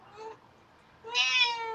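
A pet cat named Munchkin meows twice indoors, a short mew followed by a longer, louder drawn-out call, close by with no talk over it.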